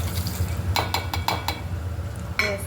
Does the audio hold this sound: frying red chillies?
yes